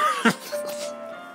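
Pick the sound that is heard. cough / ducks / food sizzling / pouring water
cough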